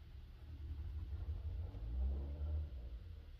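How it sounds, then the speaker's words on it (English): A noisy car passing outside during a snowstorm, a faint low engine rumble that builds as it nears and swells in the middle before easing off, heard indoors from a distance. "Sorry for the noisy car."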